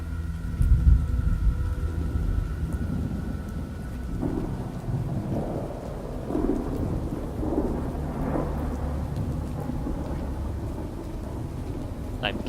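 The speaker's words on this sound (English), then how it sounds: "I'm guessing that was thunder?" Thunder rumbles through rain in the Oknytt video game, a low, steady roll that stays loud for the whole stretch, with a heavier crack near the start.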